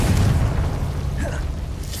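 A Confringo blasting curse explodes in Hogwarts Legacy, a heavy booming blast with a rumbling low-end tail that fades over two seconds, with a faint magical shimmer near the end.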